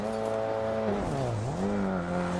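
A car engine in DiRT Rally 2.0 holds a steady tone, dips sharply as the tires skid, then climbs back, loud and close throughout.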